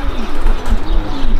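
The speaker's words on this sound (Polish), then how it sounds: "Tutaj możemy w całej okazałości zobaczyć gołębniki Grzegorza" Pigeons at a racing-pigeon loft coo close by, soft repeated low warbling calls over a light rustling background, no speech.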